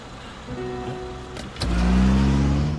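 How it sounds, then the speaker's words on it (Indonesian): A taxi in a film speeds off, its engine rising into a loud, close, sustained acceleration roar after a brief clunk, over a low rumble of traffic. "tiba-tiba saja sang supir taksi tancap gas"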